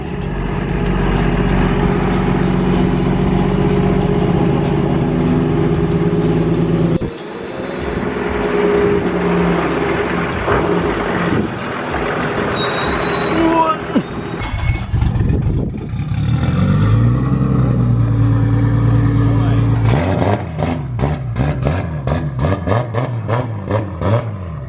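Car engine running and revving while cars are unloaded, loud steady engine drone with rising revs, a sudden drop near the middle, then uneven revving bursts and a renewed roar toward the end.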